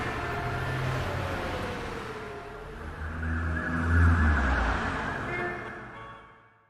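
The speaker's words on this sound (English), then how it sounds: "City traffic and city noises." City traffic ambience from a free sound plugin, with a car engine rumbling and swelling as it passes close by, then fading away over a steady bed of street noise.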